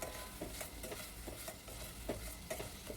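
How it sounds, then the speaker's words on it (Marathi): Finely chopped onions sautéing in oil for pav bhaji, giving a steady close sizzle broken by regular stirring scrapes about every half second, with no voice. "कांदा चांगला परतायचा आहे."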